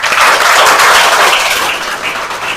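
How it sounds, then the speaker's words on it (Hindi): Applause breaks out at a school gathering celebrating pupils selected in the NMMS exam, a dense, steady wash of clapping that fades slightly toward the end, with no voices. "एक बार तालियां।"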